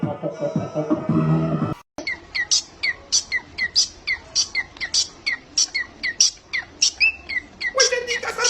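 Cartoon birds in a comedic dubbed animal scene chirp in a rapid, regular series of bright tweets, loud and close, after a brief stretch of sound effects and a short pause.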